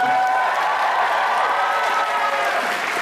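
Crowd applause at the Kitacon 2012 convention opening ceremony, a loud, steady wash of clapping from a large audience, with a sustained tonal hum or music running underneath.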